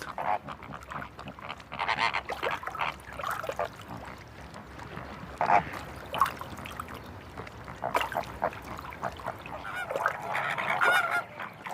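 A flock of flamingos calls near their breeding grounds in Spain, a busy chorus of goose-like honks and grunts rising and falling, with several louder bursts close by.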